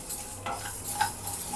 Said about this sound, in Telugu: అలాగే 1 టేబుల్ స్పూన్ జీలకర్ర వేసుకొని చక్కగా వేయించుకోవాలన్నమాట